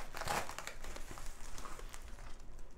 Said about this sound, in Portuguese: Estou tendo que destruir a embalagem.